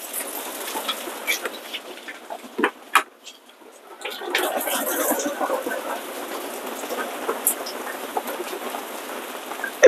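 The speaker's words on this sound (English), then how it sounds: "It's really raining out here." Heavy rain pours steadily, hissing over everything with scattered louder drops and splashes close by, briefly easing before surging back.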